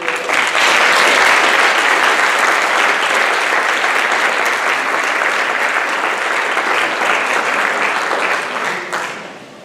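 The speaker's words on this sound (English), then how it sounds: "So I would ask you for one round of applause for all of you." An audience at a school Board of Education meeting breaks into sustained, loud applause, dense and even for most of the stretch before tapering off at the end.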